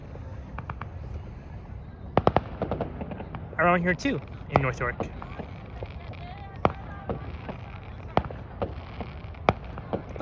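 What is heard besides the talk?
fireworks exploding in the distance, Victoria Day, Toronto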